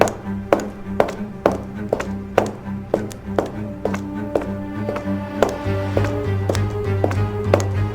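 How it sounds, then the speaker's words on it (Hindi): Heavy footsteps for a villain's entrance in an animated spy story: slow, evenly spaced thudding steps, about two per second, close and loud, with a low humming tone entering toward the end. "भारी कदमों की आवाज"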